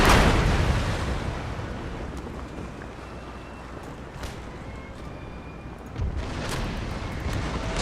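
Naval cannon fire from a small sailing ship on rough ocean in Empire: Total War, booming loudly at the start and again near the end, with a rumbling sea and battle noise continuing between the blasts.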